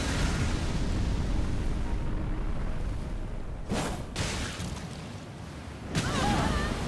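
A Fell Omen's fire attack in Elden Ring roars as a loud, broad whooshing blaze, with sharp flaring bursts partway through and a renewed surge near the end.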